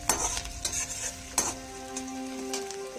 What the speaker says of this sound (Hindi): तो ये सौते हो रहा